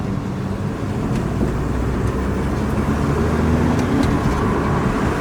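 A BMW F30 engine with a misfire runs close by, a steady, dense low rumble that holds evenly from start to finish.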